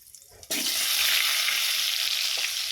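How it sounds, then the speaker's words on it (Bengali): A sudden loud sizzle as potatoes hit hot oil, then continuous steady crackling and hissing, close up with no talking. "আলুগুলো সব ভেজে নিই"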